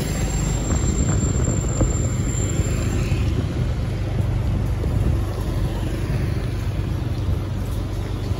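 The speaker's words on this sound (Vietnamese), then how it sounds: "Sáng nay vào đây thì trời mưa." Rain falls steadily on a street corner in Ninh Hoa during the flood season, a loud continuous hiss with a low traffic rumble beneath it.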